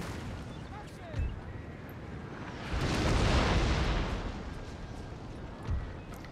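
Heavy battle din in Napoleon: Total War's Battle of Borodino: a sustained swell of cannon and musket fire rumbling through the middle, with scattered distant booms before and after.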